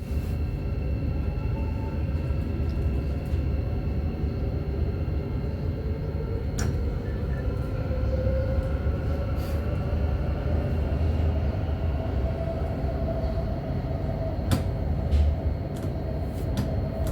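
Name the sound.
Thameslink train travelling from St Pancras to St Albans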